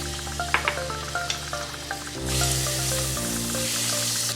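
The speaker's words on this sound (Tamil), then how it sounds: "பேன் நல்லா ஹீட் ஆன உடனே நம்ம வச்சிருக்கிற 1 கியூப் பட்டரை அதுல போட்டுக்கணும்." A cube of butter dropped into a hot pan bursts into a loud, steady sizzle after a few soft taps and clinks, frying on continuously with a bright crackling hiss.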